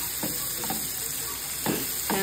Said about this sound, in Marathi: सर्व कांदा आपल्याला छान गुलाबी रंगावर परतून घ्यायचा आहे।